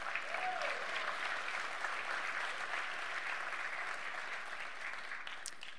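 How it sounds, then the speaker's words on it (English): A church congregation claps together at a conference session, a sustained, even roar of many hands at moderate distance, steady for several seconds with a faint brief tone near the start. "Clap your hands."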